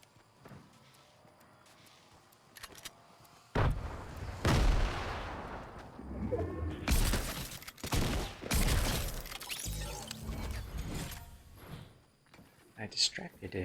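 Explosions go off in a Fortnite match as a run of loud, sharp bursts and crashes in quick succession, mixed with game effects, and a person talks over the action.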